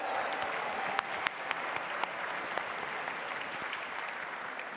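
Steady audience applause at a charity gala fundraiser, a dense wash of clapping from a large crowd that holds evenly throughout, with a few sharper individual claps standing out.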